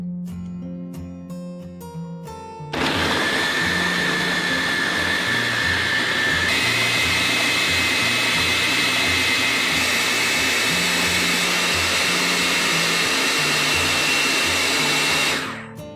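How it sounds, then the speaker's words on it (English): Food processor packed full of vegetables and baby spinach, whirring up to a loud, steady roaring blend that runs about thirteen seconds before cutting off, preceded by faint clinks and background music. "that food processor is pretty full, but not to worry, it will blend very well"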